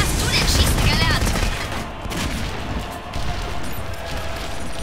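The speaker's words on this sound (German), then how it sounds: "Vorsicht, Granatenangriff!" Explosions and gunfire from a grenade attack in the shooter game Jericho, a dense, loud burst of blasts and rapid shots up front that eases into a steady rumble of combat, with voices mixed in.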